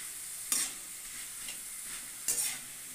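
Shredded potatoes fry in oil in a pan, a steady soft sizzle broken by two sharp scraping stirs close by, with no voices.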